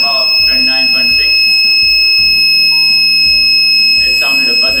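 An overheat detector on a machine sounds its alarm buzzer once the temperature passes 29.6 °C, giving a steady electronic tone that runs nearly unbroken alongside repeated low knocks and some background talk.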